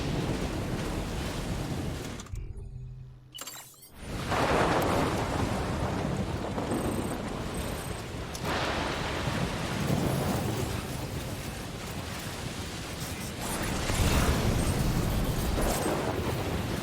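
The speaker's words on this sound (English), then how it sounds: "I hope we're all getting the authentic storm experience." A roaring storm sweeps through the video game Death Stranding: wind and rain form a constant broadband rush that briefly drops out, then swells again in loud gusts.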